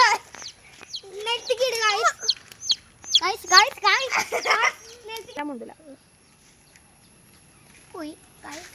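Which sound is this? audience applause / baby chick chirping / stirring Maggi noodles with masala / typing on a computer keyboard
baby chick chirping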